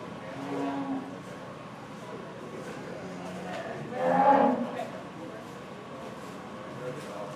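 At a 4-H livestock show, cattle give a single loud, drawn-out moo partway through, set against an announcer talking over the crowd and arena ambience.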